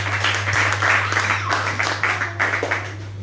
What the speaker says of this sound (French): Est-ce que vous pouvez acclamer pour lui?